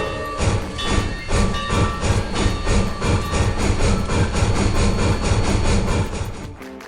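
A train rolls past close by with a loud, steady rhythmic clatter of wheels over rail joints, continuing unbroken for several seconds.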